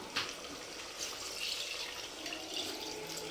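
Leftover water is poured into a pot for chicken biryani, a steady splashing stream with a few louder gushes, close and alone with no talk.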